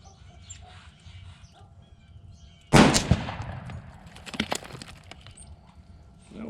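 A single loud gunshot from a 25 Creedmoor rifle cracks out outdoors in cold weather, followed by a few smaller bangs and rattles, with no talking.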